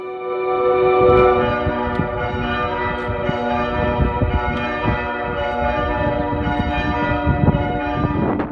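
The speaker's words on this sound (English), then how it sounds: "The 8 bells were dedicated in 1897 to mark Queen Victoria's Diamond Jubilee." Eight church bells ring out from a 13th-century parish church tower, a steady overlapping peal of bright, sustained tones with continuous shimmering harmonics, loud and close throughout with no voices.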